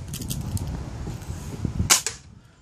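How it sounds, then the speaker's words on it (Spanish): Gunshots fired at a tin can target at a campsite: faint scattered pops over a low outdoor rumble, then one sharper, louder report near the end that quickly fades. "Ya se están acercando más los tiros."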